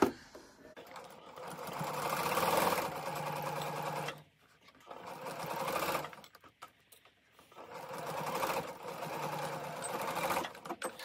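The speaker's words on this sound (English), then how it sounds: "Okay, so now we'll take this to the sewing machine. We're going to do a 1/4 inch stitch" Sewing machine stitching a quarter-inch seam on a Maple Leaf quilt block, running in three separate bursts with brief stops between, close and without talk.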